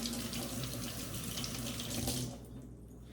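Tap water runs steadily into a kitchen sink as a zucchini is rinsed for a one-pot pasta dish, a continuous close splashing that stops abruptly near the end, with no talking.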